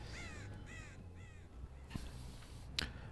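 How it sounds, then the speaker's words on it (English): Crows in the Dead by Daylight video game give three quick caws close together, then a few sharper, scattered calls over a faint ambient background. "You saw how the crows went up the hill like that."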